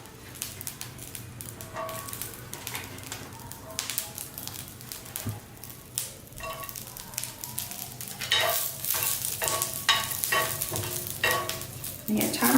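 Garlic cloves and green chillies sizzle in oil in a pan while being stirred and sautéed, a crackling fry with scraping strokes that grows louder and busier toward the end.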